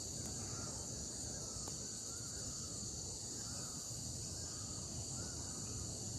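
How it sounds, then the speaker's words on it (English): Birds call outdoors among trees and grass, faint and distant, with a steady high insect buzz underneath and no speech. "You cannot hear the bird chirping?"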